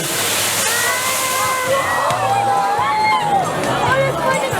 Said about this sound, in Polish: co się stało jak kolega tutaj wylał troszeczkę wody